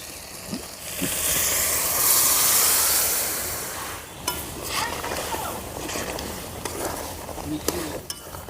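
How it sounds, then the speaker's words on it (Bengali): Village-style chicken with boiled tadka dal stirred together in a pan over a clay stove, a loud hissing sizzle swelling early on, then wet scraping stirs and a few knocks, close and with no voices. "ভালো করে মাংসের সঙ্গে আর তরকা ডালের সঙ্গে মিশিয়ে নেব"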